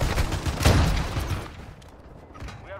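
A sniper rifle shot fired in an online shooter video game, one loud sharp blast followed by a fading rumble and quieter mechanical clatter.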